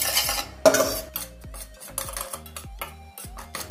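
Sifted besan (gram flour) being roasted and stirred in a pan for Mysore pak, with repeated scraping and clinking strokes of a spoon against metal in an irregular rhythm, close and clear.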